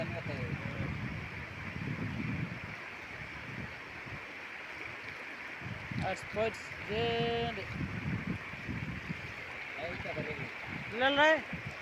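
Floodwater rushes past during rain as a continuous, low, broadband wash that stays fairly faint, while people talk over it at close range throughout.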